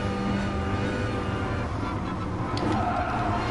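A McLaren race car engine in the racing game GT Sport drones steadily and evenly for the whole stretch, a continuous mid-level roar with no clear shifts or passes.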